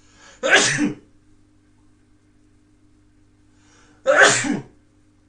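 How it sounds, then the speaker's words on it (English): Two loud, close sneezes, one after the other with a few seconds of quiet between them. "I feel a sneeze."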